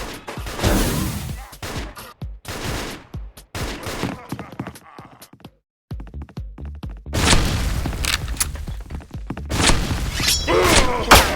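Loud booming cannon blasts and heavy thuds from video game combat, with bursts of rapid gunfire and crashing impacts, one brief silent gap midway.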